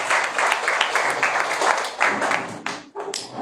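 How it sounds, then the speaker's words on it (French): A church congregation applauds together during a Sunday morning worship service, with dense, sustained clapping that swells and dips, a few louder claps standing out near the end, and some faint voices mixed in. "Laisse-moi applaudir le Seigneur encore une fois."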